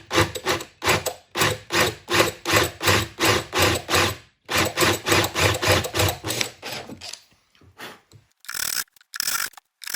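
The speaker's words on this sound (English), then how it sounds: "try to hit the right depth with the Forstner bit" Forstner bit boring a hole into a wooden table, heard as a rapid run of rhythmic rasping, grinding bursts close by, a short pause, another steady run, then a few scattered scrapes as drilling stops.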